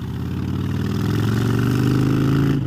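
A motorcycle engine runs close by at a steady idle, its low rumble holding even and unbroken for the short stretch.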